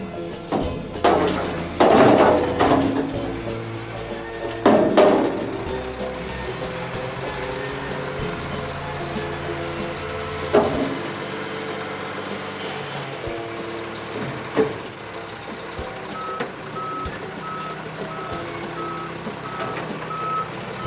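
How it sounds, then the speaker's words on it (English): A garbage truck works close by with heavy clunks and hydraulic thuds, then repeated reversing beeps ring out in a steady rhythm over the rumble of the idling engine, and no one speaks. "Garbage truck,"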